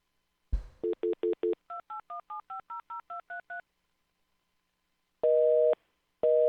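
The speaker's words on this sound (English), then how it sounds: "Dial the number properly." Touch-tone telephone keypad dialing a number, a rapid run of DTMF beeps in two bursts, followed after a pause by two long pulses of a busy signal, clear and close with no talking.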